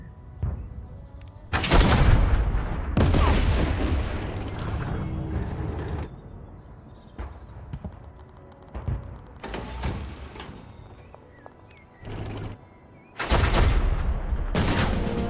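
Mortar salvos in the turn-based World War II strategy game Total Tank Generals, with several loud, booming bursts separated by short gaps and mechanical clanks between them.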